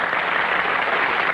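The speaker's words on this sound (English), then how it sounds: "all this applause is for you" A studio audience on a 1966 Truth or Consequences game show claps in an even, continuous wash of applause, fairly loud and unbroken throughout.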